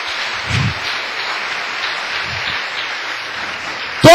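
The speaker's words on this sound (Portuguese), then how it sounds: "Quem entendeu isso, dá uma salva de palmas para o Senhor." A congregation applauds for the Lord in a church service, a dense, steady patter of many hands clapping at even loudness throughout, with a brief louder burst right at the end.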